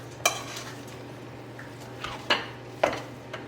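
Sauce and hamburger meat are stirred together in a pan for a cabbage roll casserole. Three or four sharp utensil scrapes stand out against a quiet, low background hum.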